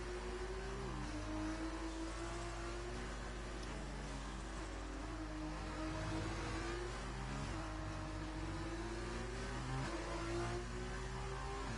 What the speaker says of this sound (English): Bunnies is the fastest car on track and can't get past White Claw.